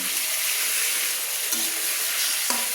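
Chicken pieces sizzle and fry with spices in a pan, with steady close frying noise and a few scraping stirs of a spatula, no voices.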